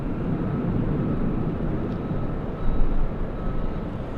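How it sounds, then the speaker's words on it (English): Embraer E175 jet taking off at LAX in Los Angeles, a steady broadband engine roar heard from a distance, swelling slightly partway through with no break. "Takeoff happening right now. We have the little E175 flying to San Jose, California"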